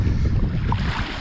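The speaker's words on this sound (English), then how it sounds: "it's a pretty windy day" Strong wind blowing on a sandy seashore while foraging, a dense low buffeting roar against the microphone with faint surf mixed in, continuous and close.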